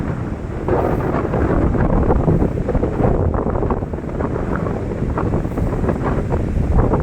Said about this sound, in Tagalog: Pero ang lakas pa rin ng hangin, naririnig